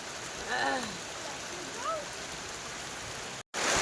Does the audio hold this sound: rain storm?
yes